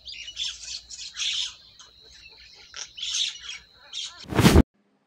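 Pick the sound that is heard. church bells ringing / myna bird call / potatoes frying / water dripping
myna bird call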